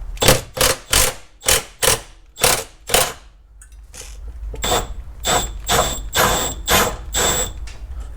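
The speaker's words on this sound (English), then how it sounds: "I was able to fit 19mm wrench on the nut in the back of this bolt" A 19mm wrench working the trailing arm bolt nut on a Toyota Sienna: seven loud ratcheting bursts in a quick rhythm, a brief pause, then a softer run of faster clicks and rasps, close by with no talk.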